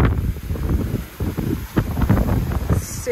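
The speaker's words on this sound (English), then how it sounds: "Super windy this evening." Strong evening wind buffeting an outdoor microphone on the Lanzarote coast at Playa Blanca, loud irregular rumbling gusts that rise and fall continuously with no voices heard.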